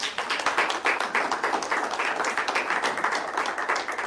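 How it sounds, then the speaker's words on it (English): An audience bursts into sustained applause for a speaker, many hands clapping densely and steadily at moderate volume in an indoor room, without talk. "Let's give her a round of applause."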